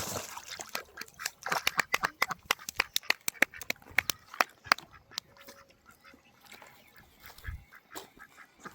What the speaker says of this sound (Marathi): आपण हे बदक या ठिकाणी सोडत आहोत.